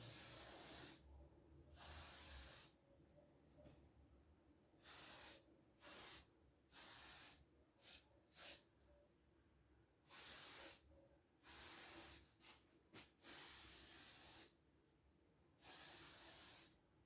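Bursts from a spray paint can laying down gray graffiti color, about ten separate hissing sprays of varying length, some long and steady, others short quick puffs, close and fairly loud against a quiet room.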